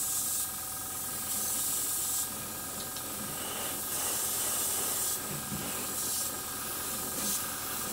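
An airbrush sprays weathering paint onto a Hornby W1 model locomotive in steady hissing bursts with brief pauses between passes. The spray is close and moderately quiet, with no talk.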